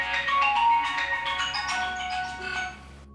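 A phone rings with an incoming call, a bright electronic melodic ringtone playing steadily for about three seconds before cutting off abruptly, with no voices over it.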